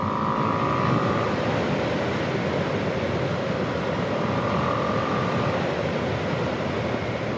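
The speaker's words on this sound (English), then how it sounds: "I thought I'd just bring the bike out and just have a burn around the roads" A Ducati Streetfighter V2 motorcycle riding along roads, heard as a steady, continuous engine drone mixed with heavy wind rush. It stays loud and even throughout, with no speech.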